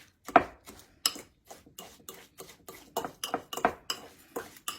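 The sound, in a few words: mixing clumpy brown sugar with a fork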